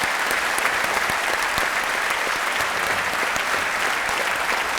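A large audience at a science talk breaks into loud, rousing applause for the guests, a thick continuous roar of many hands clapping that stays strong and steady from start to finish.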